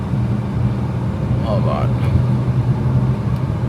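A car engine hums steadily under a driver's voice while being downshifted from seventh gear, with a low constant drone and faint tonal shifts in the middle.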